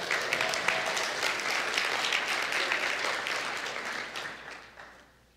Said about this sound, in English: Give Addie a round of applause.